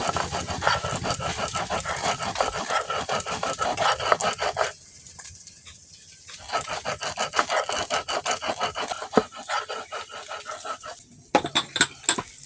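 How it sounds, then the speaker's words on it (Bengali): Mustard and poppy seeds ground together on a stone grinding slab, a loud continuous rasping scrape in rhythmic back-and-forth strokes, with short pauses between bursts, close up. "সরষে পোস্তটা একসাথে বেটে নাও, ভালোভাবে বেটে নিচ্ছি।"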